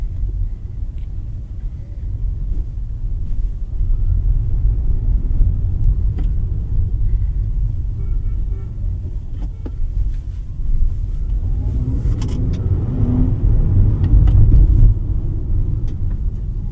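Low, steady engine-bay hum and rumble from a 2023 Honda CR-V RS e:HEV hybrid with a 2.0-litre naturally aspirated inline-four, running in electric mode, holding a continuous drone that swells slightly near the end.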